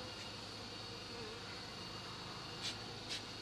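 Bees buzz in a continuous, dense drone around hives in a bee yard, steady and even throughout, with a couple of brief louder passes as insects fly close.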